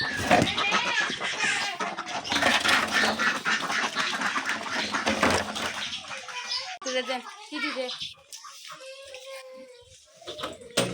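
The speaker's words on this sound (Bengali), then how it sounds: "এই যে হাঁস মুরগি বের হওয়ার জন্য কিন্তু অনেকেই করতেছে" Ducks quack in a busy cluster up close, mixed with children's voices and other bird calls, thinning to scattered quacks toward the end.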